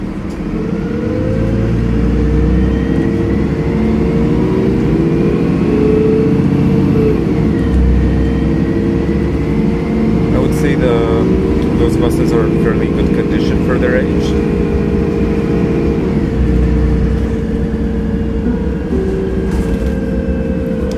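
MAN NL223 city bus engine in Ljubljana, a loud continuous diesel hum from inside the bus with gear and speed changes shifting its pitch, plus faint rattles and clicks partway through.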